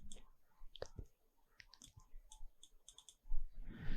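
Several sharp mouse clicks at irregular spacing while working in statistics software for a reliability test, fairly quiet and close, with a short burst of rustling handling noise near the end.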